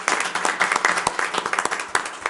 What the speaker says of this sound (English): So can we give them a nice round of applause?